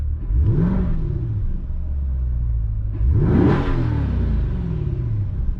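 Two quick engine revs from a 2021 Chevrolet Corvette C8 in Z mode rise and fall, the second stronger, with a deep rumble idling between them.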